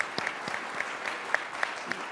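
A conference audience at a panel on cities, refugees and migrants gives a short round of applause, a moderately distant, steady patter of many hands with a few sharper claps standing out.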